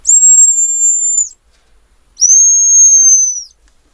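A hazel grouse decoy whistle made by Artur Larkhanidi gives two thin, high, steady whistled notes of about a second each, separated by a short pause. The second is slightly lower, and both are clean and close against silence.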